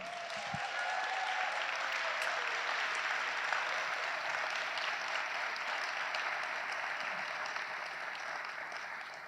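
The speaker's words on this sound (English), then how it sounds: "One round of applause for everybody." Audience at a high school hall of fame banquet applauding honorees, a dense, steady round of clapping that fills the room evenly for several seconds, with no speech over it.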